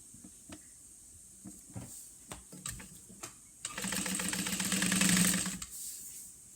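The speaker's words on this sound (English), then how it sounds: "we will sew them at a 1/4 of an inch seam allowance" A sewing machine stitching two slip pocket pieces for a bag at a quarter-inch seam: a few handling clicks, then a close burst of rapid, steady stitching lasting about two seconds before it stops.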